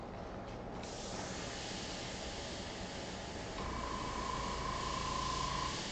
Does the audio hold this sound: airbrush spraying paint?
yes